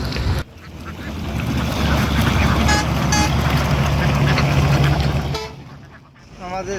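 A large flock of farm ducks at a duck farm in Chalan Beel, Bangladesh, makes a dense, continuous chorus of quacking that stays loud and close for most of the clip before briefly thinning out.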